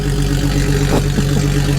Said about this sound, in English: listen to how loud this guy's truck is above me